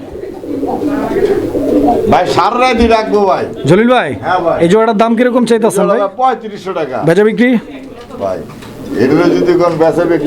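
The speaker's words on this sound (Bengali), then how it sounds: "এই যে নর ডাক দেখছেন" Male pigeon cooing at a fancy pigeon farm, mixed under continuous nearby male speech, the soft coos surfacing between spoken phrases.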